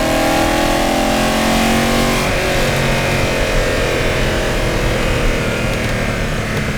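A Lamborghini Urraco P250's 2.5 litre V8 engine revs hard and loud in a workshop, its pitch climbing through the gears before dropping into a rough, rumbling roar up close.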